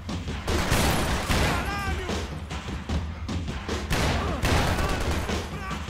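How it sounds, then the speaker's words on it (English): Shotgun blasts in the video game Max Payne 3, heavy booming shots repeating over a loud, busy din of in-game combat. "Guess my shotgun works again."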